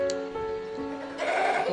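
A goat lets out a drawn-out, quavering bleat, close and clear with no voices over it, rising into a rougher, harsher cry toward the end.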